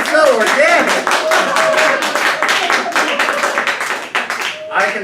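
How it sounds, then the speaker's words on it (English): Audience applause breaking out mid-show at a live comedic stage performance: dense, steady clapping from a crowd that stays loud throughout, with a few voices calling out over it. "Mid-show applause."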